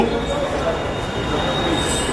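A train runs through a Delhi metro station, a steady loud rumble with a faint wheel squeal throughout, and a voice may be faintly present in the background.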